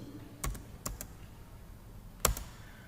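Numbers are entered on a computer keyboard during voucher entry in Tally.ERP 9 accounting software, a few faint, sparse key clicks in small pairs against a quiet room, with no talking.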